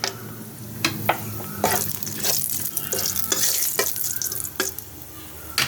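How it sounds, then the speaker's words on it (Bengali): Bay leaf, a whole dried chili and whole garam masala (star anise, cardamom, cinnamon) tempering in hot oil, a continuous crackling sizzle broken by repeated sharp clicks and scrapes of stirring. "এখন আমি তেলের মধ্যে তেজপাতা আর একটা গোটা লঙ্কা দিলাম, আর দেবো গোটা গরম মশলা ফোড়ন"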